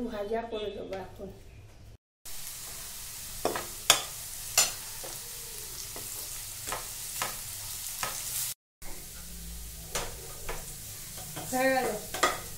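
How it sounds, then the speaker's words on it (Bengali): Sliced potatoes fry in a pan, with steady sizzling and a few sharp clinks of stirring, while someone talks at the start and again near the end. "একটু আলু ভাজা করে দেবো এখন"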